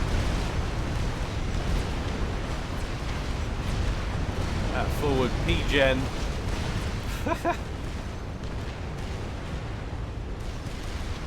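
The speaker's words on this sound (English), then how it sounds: "Gunfire whistling overhead" Battle sounds from the strategy game Supreme Commander, with constant low rumbling of artillery fire and explosions underneath a commentator talking over the top.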